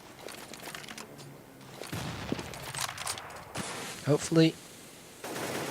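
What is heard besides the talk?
gunfire in a video game match, Counter-Strike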